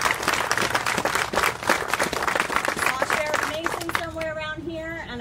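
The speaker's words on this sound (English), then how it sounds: "Please give them a round of applause." A crowd gathered for a county announcement claps for local law enforcement officers, dense sustained applause with murmuring voices that tapers off as a voice begins speaking near the end.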